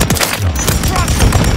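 Gunfire in Modern Warfare crackles as a loud, rapid burst of close shots within a very brief, dense stretch of combat noise.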